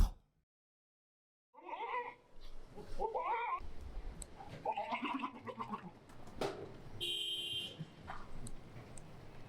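A Tota-breed goat bleats several times in quick succession nearby, followed by a sharp high-pitched electronic tone and a few scattered calls.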